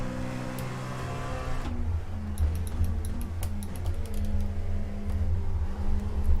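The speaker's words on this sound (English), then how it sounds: "You can hear me actually accelerating into the apex." A car in a racing video game accelerates into a corner at Daytona, giving a steady low engine drone with faint ticking mechanical sounds and no talking.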